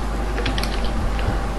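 Computer keyboard typing in a quiet room, a light scatter of soft key clicks over a steady noise background, with no voices.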